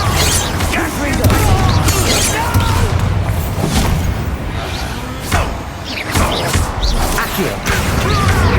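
Confringo fire spell blasts in Hogwarts Legacy combat, loud booming crashes and whooshes over dense game music and effects, with a voice calling out spells.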